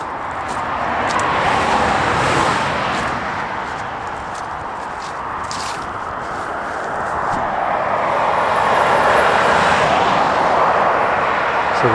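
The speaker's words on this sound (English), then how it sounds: "they're just coming up a dual carriageway there, so they're going a fair old rate of knots" Fast traffic on the A303 dual carriageway rushes past in a continuous loud roar, swelling and fading as vehicles sweep by at speed, with wind buffeting nearby.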